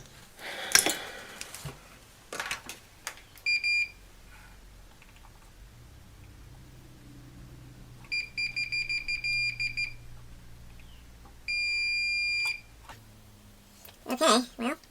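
A multimeter's continuity beeper sounds while a logic board from an Apple LaserWriter IIg printer is being recapped: a series of short high beeps, then a longer steady tone, amid handling clicks and tapping.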